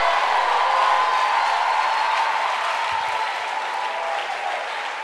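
A congregation applauding to acclaim God, loud sustained clapping from a large crowd filling the room evenly throughout.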